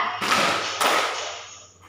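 A group of people clap hands together in a classroom counseling session, a broad sharp burst of claps starting near the beginning with a second surge partway through, then trailing off.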